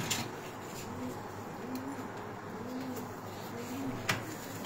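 Racing pigeons coo in a soft, steady series of about four low calls, repeating evenly against a faint background hiss with no one talking.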